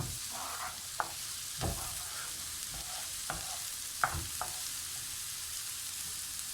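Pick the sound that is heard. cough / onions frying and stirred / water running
onions frying and stirred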